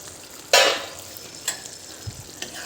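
A spoon scrapes through thick tomato thokku in a pan, one sharp stir followed by a few lighter scrapes over faint bubbling and sizzling.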